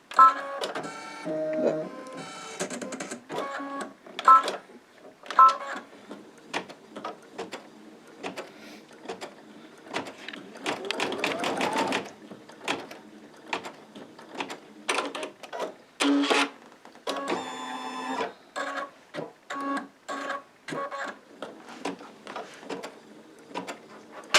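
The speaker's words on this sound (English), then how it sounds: "So I am going to next stitch the placement lines for the elastic." An embroidery machine stitches placement lines for elastic on an in-the-hoop Christmas cracker cover, running in close, clattering bursts of rapid needle strokes with brief pauses and mechanical whirs between runs.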